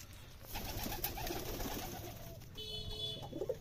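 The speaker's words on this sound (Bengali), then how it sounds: "এটা হলো আমার কবুতরের ঘর," Several pigeons coo softly inside a pigeon coop, their low, rolling calls overlapping against faint background noise.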